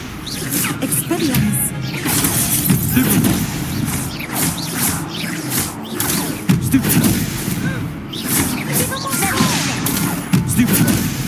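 Spell combat in the Hogwarts Legacy video game, with a disarming spell cast amid a dense, continuous run of crackling impacts and booming bursts, voices talking over the clatter throughout.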